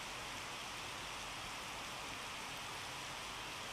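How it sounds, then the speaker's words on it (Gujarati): Heavy monsoon rain showers pour over Lakhani in Banaskantha, Gujarat, a dense, steady wash of falling water with no pauses, fairly faint and even throughout, with no voices. "તો બનાસકાંઠાના લાખણીમાં ધોધમાર વરસાદ આવ્યો"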